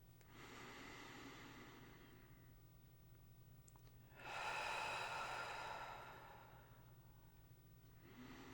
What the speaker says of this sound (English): take 3 nice deep breaths with me